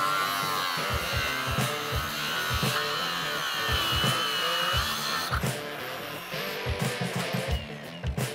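A grinder cuts through a loose belt joiner on an old 40-year-old mining feed machine, giving a steady, close, buzzing whine with rhythmic low pulses and a brief dip in level partway through.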